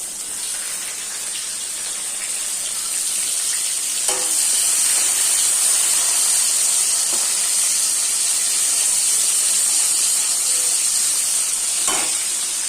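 Tomatoes and green chillies sizzle in a hot pan with garlic, a dense, even hiss close by that swells slightly midway, with a couple of faint clinks and no voices.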